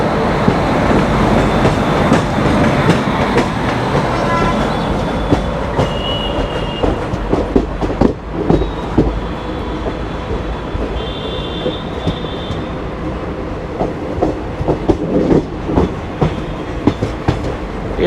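The Shramjeevi Express rolls past at close range, its wheels clattering in a steady rhythmic clack over the rail joints with occasional high metallic squeals, loud and continuous throughout with no voices.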